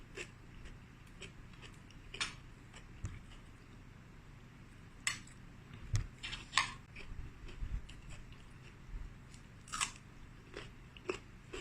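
Someone chews a big mouthful of Thai chili paste, giving crunchy bites and soft mastication close to the mic, in irregular bursts over a quiet background with no talking.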